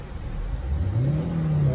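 A 2008 Honda Civic with a 1.8-litre engine and manual gearbox revs up smoothly, its steady hum rising in pitch over under two seconds, close by and moderately loud with no talk.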